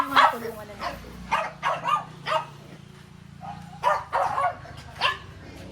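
Several dogs bark in short repeated bursts at close range, with yips in between, while a person talks underneath.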